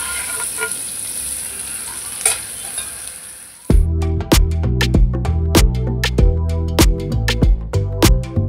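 Onion dropped into hot oil in a kadhai for a Maharashtrian vangi and dried bombil recipe, bursting into loud sustained sizzling frying with repeated stirring scrapes and clicks, after a quieter stretch.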